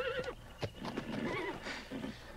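A young horse whinnies loudly and close by, followed by a brief run of hoof clip-clops and snorting sounds, with no talk.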